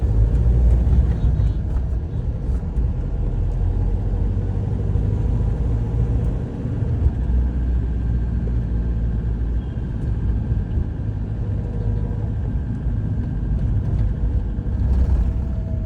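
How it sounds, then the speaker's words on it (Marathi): Fast traffic on Nagar Road produces a loud, continuous low engine rumble and road roar, with vehicles swelling and fading as they pass close by, steady throughout without clear speech. "आता बघा हे असे रोड क्रॉस मधून चालू असतात, एवढे फास्ट गाड्या चालतात."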